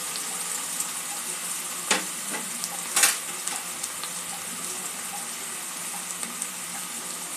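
Medium tomato puree hitting a pan of frying onion, garlic and ginger for a Bengali egg curry, a soft steady sizzle with a few sharper spits and splashes early on, no talking.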